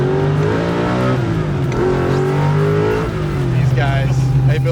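A 1967 Camaro with a 750-horsepower engine drives along, its steady loud engine drone and rising revs filling the whole stretch while someone talks over it.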